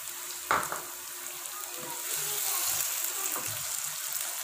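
Chicken frying with tomato paste in oil, heard as a steady close hiss and sizzle with a few light stirring knocks, and no talking.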